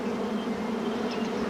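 A large swarm of about 40,000 honeybees hums in a steady, dense buzz that carries evenly throughout and is heard alone.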